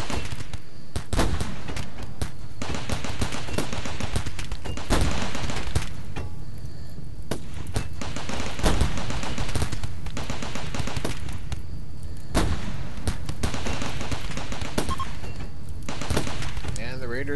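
Heavy guns firing at raiders in Rimworld: rapid, sustained bursts of gunfire crackle on and off for the whole stretch, loud and repetitive, while someone talks over them.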